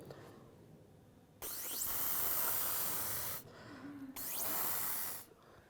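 Two long bursts of airbrush spray, the first about two seconds and the second about one, hiss loudly and close as paint is blown over a child's spread hand at a prehistoric art workshop, with quiet room sound between them.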